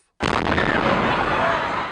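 Bomb blast at the Boston Marathon finish line on Boylston Street, caught in news footage: a sudden loud boom after a brief silence, followed by a sustained, roaring wash of broadband rumble and echo that fills the rest of the moment.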